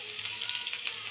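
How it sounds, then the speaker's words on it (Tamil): Onion frying in hot oil with fennel and mustard seeds for a South Indian lentil-ball kuzhambu, giving a steady, close, continuous sizzle with no talk. "சோம்பும் கடுகும் பொரிஞ்சோன்னா ஒரு வெங்காயம் போட்டிருக்கேன், அதை சேர்த்துக்கலாம்."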